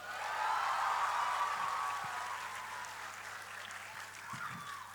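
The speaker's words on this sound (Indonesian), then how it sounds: "karena tepuk tangannya meriah" Audience applause at the opening of a folk storytelling festival semifinal, a steady wash of many hands swelling early, then easing to a softer sustained patter with a low background hum.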